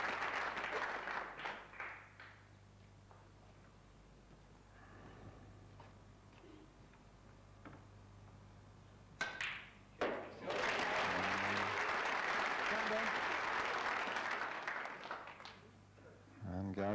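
A few soft claps from a snooker audience at the 1991 British Open final, then a quiet stretch before the room breaks into loud, sustained applause that fades away near the end.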